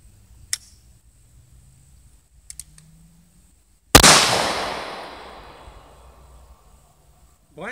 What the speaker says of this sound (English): Blanks are a lot louder than a regular bullet.